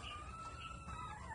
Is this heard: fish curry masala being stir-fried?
no